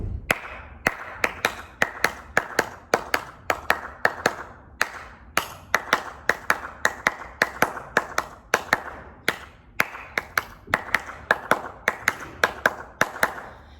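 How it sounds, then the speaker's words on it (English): A single person claps out a tap dance combination featuring the Alexander, sharp close hand claps in a steady, syncopated rhythm repeating for the whole stretch, with no talking. "Let's clap it out."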